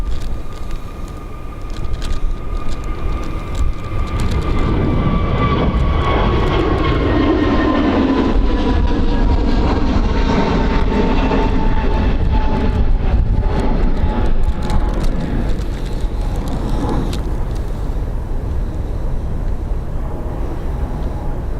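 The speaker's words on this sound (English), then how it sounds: "BA off to Heathrow." A British Airways jet takes off from Dublin Airport bound for Heathrow, a loud sustained engine roar with a whining tone that slowly falls in pitch as the aircraft climbs away. No voices are heard.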